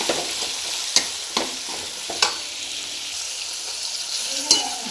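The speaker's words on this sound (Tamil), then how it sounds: "தக்காளி சேர்த்துட்டு நல்லா வதங்குங்க" Onions and tomatoes sauté in a hot pan with a steady sizzle, broken by several sharp scrapes and clinks of a spoon stirring against the metal, close and loud, with no voices.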